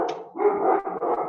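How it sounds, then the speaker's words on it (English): Dogs bark continuously in the background during an online meeting, a busy run of close, overlapping barks lasting about a second with no pause between them. "sorry if you guys can hear the dogs in the background"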